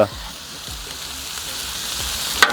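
Bacon sizzling and spitting on a 30-inch, four-burner Napoleon stainless steel griddle, a steady close crackle with a spatula scrape near the end.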